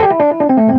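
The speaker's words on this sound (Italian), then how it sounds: "questo è un amplificatore che ha anche la distorsione" A keyboard or guitar amplifier with its own built-in distortion plays a short run of loud, gritty sustained notes that pulse and shift in pitch, with no talking over them.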